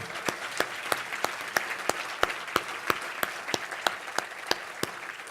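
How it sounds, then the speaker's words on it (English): Applause from a symposium audience in a hall comes as a steady train of evenly spaced, distinct claps over a soft crowd hiss, with no talk. "Give her a great big round of applause."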